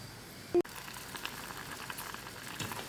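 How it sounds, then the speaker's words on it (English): Groundnuts boil in salted water in a pot, a steady close bubbling and seething with a brief sharp knock near the start. "the groundnut has actually been boiling for a while"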